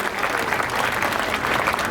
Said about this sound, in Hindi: एक बार जोरदार तालियों से स्वागत कर दूं